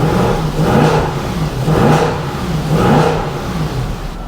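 A Mercedes W204 C63 AMG with the M156 V8 revs repeatedly to around 3,000 RPM, three loud swelling rises and falls close by, with no talking.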